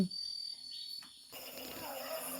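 Insects chirp at night beside a rice field, a thin, steady high trill that stays faint and continuous throughout, with a brief soft knock at the start.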